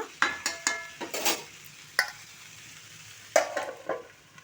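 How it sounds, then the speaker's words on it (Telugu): Food fries in a pan on a home stove turned to low heat. A spatula scrapes and clinks against the metal in separate, spaced strokes over a quiet, faint sizzle, with short pauses between the stirs. "అయితే ఫ్రై చేసుకుంటాను సిమ్లో పెట్టుకుంటా"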